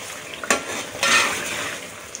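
Spoon stirring soft tomato masala in a pan for spinach curry, with a low sizzle underneath and a few scraping strokes across the metal, close and clear, no talking.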